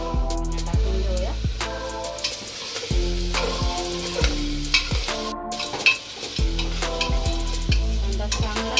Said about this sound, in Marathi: कांदा भाजतोय।